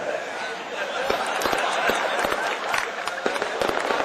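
Sharp firecracker pops crackle irregularly through a noisy crowd, with people talking and chattering throughout.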